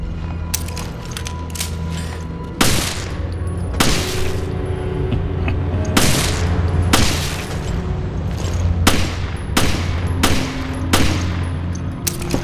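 Gunshots and weapon mechanisms from the video game Resident Evil Revelations: several sharp, loud bursts at irregular intervals over a steady low game ambience, with no talking.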